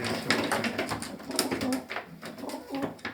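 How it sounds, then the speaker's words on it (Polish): Domestic pearl and barred pigeons coo repeatedly in a cage in a soft, throaty rhythm amid rustling and other bird calls, fairly close and steady throughout. "Są poszczepione gołębie."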